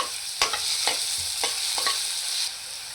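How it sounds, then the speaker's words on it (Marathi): Finely chopped onion fries in hot oil with green chilli, giving a steady close sizzle broken by four or five sharp scrapes of a stirring spoon, the hiss easing off near the end. "त्यावरच बारीक चिरून घेतलेला कांदा टाकायचा"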